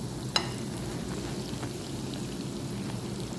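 Dried fish (tuyo) frying in oil with onion, chili and garlic, a steady dense sizzle and crackle heard close up, with one sharp pop near the start.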